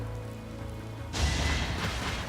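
Rain in the game Fire Emblem: Three Houses, Crimson Flower route, rising abruptly midway into a loud, steady, broadband hiss that stays constant to the end, following a quieter tonal backdrop.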